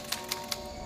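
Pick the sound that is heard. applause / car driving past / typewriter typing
typewriter typing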